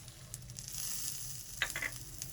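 Walnuts, cashews, almonds and melon seeds frying in a pan give a steady, soft sizzle with a few brief scraping clinks near the end, nobody speaking.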